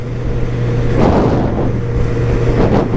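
Honda CB1000R 2023 four-cylinder motorcycle engine accelerating hard on the road, a loud, close roar rising in pitch through two surges, mixed with heavy wind rush.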